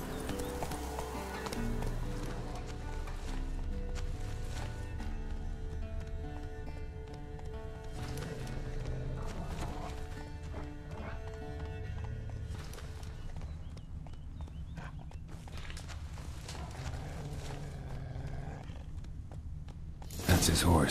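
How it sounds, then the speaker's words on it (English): Hooves of a horse in The Witcher 3: Wild Hunt clop rhythmically in a steady galloping beat over low background music and ambience, moderately faint, with a sharp burst of noise at the very end. "His horse."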